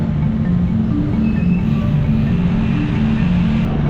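Road traffic rumbles near a market, a loud, continuous low engine drone from passing vehicles with faint tonal hums over it and no pause throughout.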